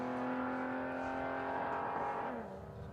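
A loud drag race car engine drones at high revs with a steady tone at Palmyra Raceway, then the pitch drops as it eases off near the end.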